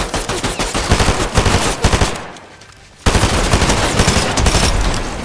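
Rapid automatic gunfire in the video game Fortnite, loud and close, with dense bursts of shots that break off briefly and then resume alone.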